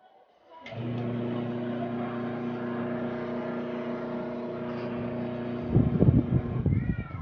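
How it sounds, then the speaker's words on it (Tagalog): A double tub washing machine's wash motor starts up and runs with a steady, loud hum, then shifts into a rougher, pulsing churn near the end as it reverses direction. "Kung nakikita nyo siya guys, gumagana na yung wash motor natin."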